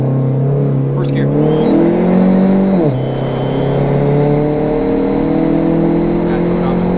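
A Chrysler PT Cruiser GT with a second-generation intake manifold conversion accelerates hard in first gear. The close engine note climbs steadily in pitch, then drops sharply at a shift and pulls again, with voices inside the car.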